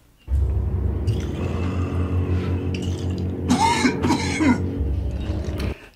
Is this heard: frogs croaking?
no